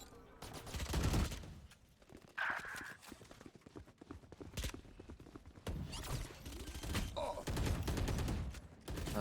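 Swarm grenades going off in the shooter game Valorant: a run of sharp crackling bursts and popping blasts, loud and repeated in clusters, with brief tonal game effects between them.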